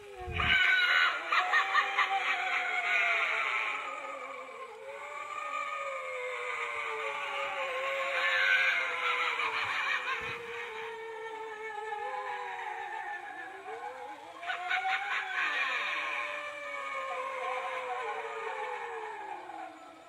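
A Walmart animated floating pirate skeleton Halloween prop runs after its sensor is triggered, playing cackling laughter and wailing, swooping sound effects in two long loud bursts, fairly close, with a sharp click between them.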